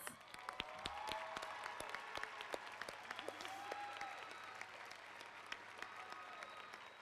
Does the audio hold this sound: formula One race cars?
no